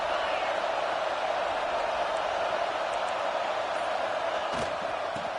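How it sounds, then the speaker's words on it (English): Large crowd roaring steadily in a college football stadium at Tennessee versus USC, a dense continuous wash of cheering noise with no breaks. "This crowd ready to make its presence known."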